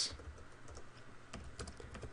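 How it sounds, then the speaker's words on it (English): Typing on a computer keyboard while a title is set up in Premiere, a steady run of quick, close clicking keystrokes with an irregular rhythm and no talking. "And I'm just going to start typing."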